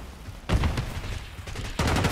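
Napalm strike in Call of Duty Black Ops 6 multiplayer: two heavy broadband bursts of blasts and crackling fire, the first running about a second and the second starting near the end, over continuous battle noise.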